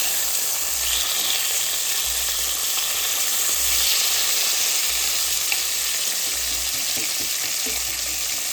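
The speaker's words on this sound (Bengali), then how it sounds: "সর্ষের তেলে এই কাতলা মাছগুলো এক এক করে ভালো করে এপিট ওপিট করে ভাজতে হবে" Pieces of catla fish frying in hot mustard oil, a loud, steady, close sizzle that continues without a break, with faint low thumps underneath and no voices.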